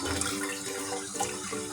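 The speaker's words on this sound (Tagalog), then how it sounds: "Kaya inaanan ko po siya ng tubig. Pinatutuluan ko ng tubig." Water from a tap runs and splashes over cooked pasta in a sink strainer to cool it for a cold pasta dish, a steady close trickle with small gurgling shifts and no talking.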